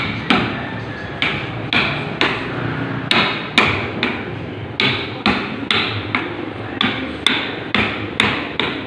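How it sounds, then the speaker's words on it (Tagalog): Hammer pounding in a workshop in Pampanga where religious statues are carved, landing as a steady series of sharp, loud strikes about once per second, close by and without talk. "So pupunta tayo doon sa pukpok ng pukpok kanina pa."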